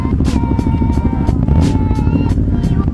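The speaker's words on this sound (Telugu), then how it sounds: "దాని ఎగ్జాస్ట్ సౌండ్ చూడండి ట్రయంఫ్ త్రీ" A Triumph Tiger motorcycle's exhaust on a highway ride, a loud close engine rumble with rapid pulsing and repeated rises in revs over a few seconds.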